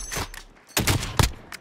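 Gunfire bursts in the video game Call of Duty Warzone, loud and close, with several rapid volleys separated by short pauses.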